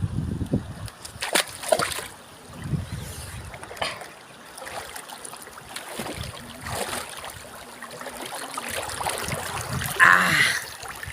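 Water splashes and trickles as people swim in a river on a hot day, with irregular nearby splashes over a steady flowing-water background and occasional faint voices.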